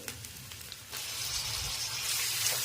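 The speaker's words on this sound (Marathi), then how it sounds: "आणि ते पण आपल्याला एखादा मिनटं परतून घ्यायचं आहे टॅमॅटो चांगला मऊ होईपर्यंत आपल्याला हे परतून घ्यायचं आहे" Tomatoes sautéing in a pan for masala pav give off a steady, moderate sizzle and hiss, with a few faint clicks at the start before the frying noise swells and holds.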